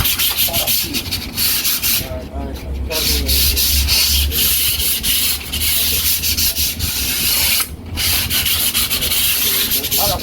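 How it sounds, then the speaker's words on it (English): A painted accent wall being hand-sanded between coats of Valspar paint, heard as close, loud, repeated scratchy rubbing strokes with brief pauses, and no talk. "Sand to the side."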